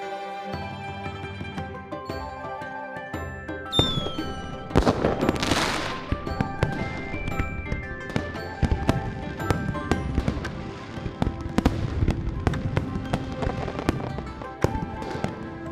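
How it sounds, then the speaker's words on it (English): Fireworks burst and crackle repeatedly in the game Love and Deepspace, sharp pops and booms overlapping over a steady musical tone in the background. "Fireworks are beautiful."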